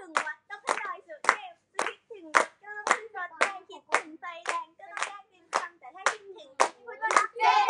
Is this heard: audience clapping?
yes